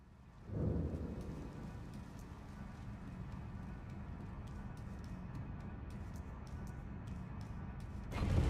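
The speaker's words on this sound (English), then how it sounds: "Yeah, thunder in a tunnel." A deep thunder rumble echoes through a tunnel in a video game boss fight, swelling in with a low boom, then a long, steady rolling roar, and another sharp burst at the end.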